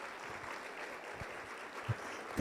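A church congregation applauds in a steady wash of clapping at moderate distance, with a few louder thumps near the end.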